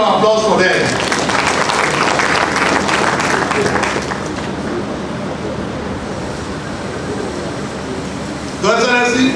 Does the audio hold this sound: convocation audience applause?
yes